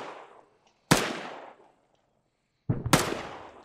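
Two sharp gunshots ring out in the video game ArmA 3, about two seconds apart, each a loud crack followed by a quick fading echo tail, with near silence between them.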